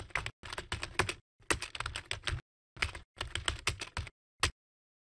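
Rapid keyboard typing in four quick bursts separated by short silences, ending with a single lone keystroke, close and clear with no voices.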